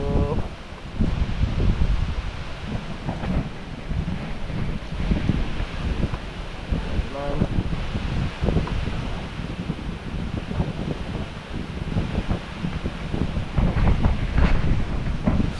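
Wind blows outdoors in rainy weather, buffeting the microphone with constant rough gusts, while voices talk intermittently underneath.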